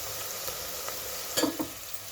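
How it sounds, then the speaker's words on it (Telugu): Onions frying with salt and ginger garlic paste in a pan, a steady close sizzle with a couple of brief spoon scrapes near the end. "ఇప్పుడు మనము ఇందులో అల్లం వెల్లిపాయ పేస్ట్ వేసుకుందాము"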